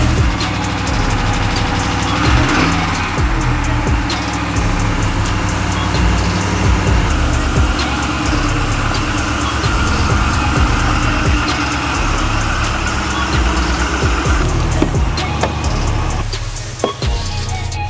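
A Rocky Ridge Ram 1500 truck with a 5.7-liter Hemi V8 idles steadily nearby, a constant low engine rumble running unbroken for the whole stretch with no talk over it.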